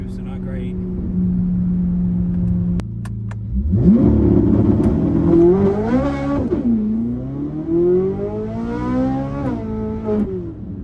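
A Corvette C8 on drag radial tires launches hard, its engine roaring up through rising revs with a gear change partway, loud and close, wheelspin making the pull uneven, while a person talks over it.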